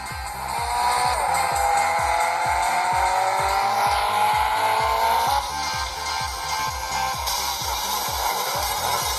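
A car racing video game played on a Leagoo mobile phone: a steady, loud engine whine that slowly climbs in pitch, with tire squeal and a rapid pulsing rumble throughout.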